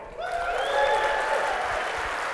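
A keynote audience breaks into loud, dense applause that swells quickly and holds steady, with a few whistles riding over the clapping.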